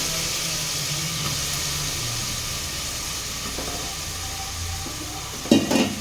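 Eggplant frying in oil with ginger garlic paste gives a steady soft sizzle, with a few light scrapes of stirring and a brief louder clatter near the end, no talk.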